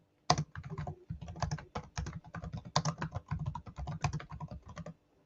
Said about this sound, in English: I'll try to type without typos now.